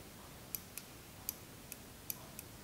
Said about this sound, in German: Er schaltet, dieses Klicken,